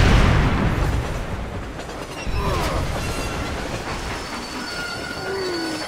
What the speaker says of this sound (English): I do not think that train would stop that quickly.